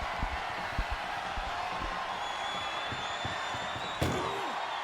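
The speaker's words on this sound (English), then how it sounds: "Oh, there's one door shut." Ambulance door slammed shut during a wrestling match, a sharp bang standing out near the end above a steady arena crowd roar and scattered thumps.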